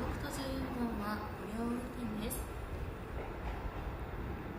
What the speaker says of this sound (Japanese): 1番線に列車が到着いたします。